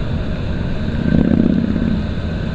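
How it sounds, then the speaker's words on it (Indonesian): A convoy of big motorcycles rides past on a Bali road heading toward Nusa Dua, a steady engine rumble that swells briefly as the bikes pass, then settles back into a continuous drone. "Menuju ke arah Nusa Dua ya untuk rombongan-rombongan moge ini"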